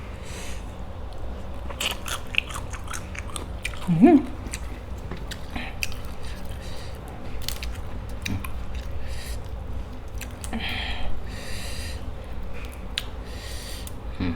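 Steamed fresh shrimp are eaten close up, giving soft crunches and chewing sounds in scattered bursts, with a louder bite near the middle, over faint background noise.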